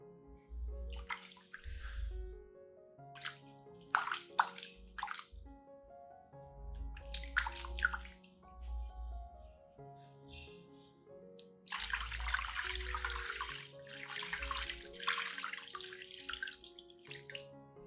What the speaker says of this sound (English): Then rinse the entire plant with clean water to remove dust, debris, and any remaining bacteria.